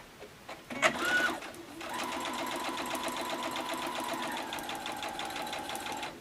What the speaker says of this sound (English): I'm going to bring this to my sewing machine, and I have my 1/4 inch presser foot here on the machine.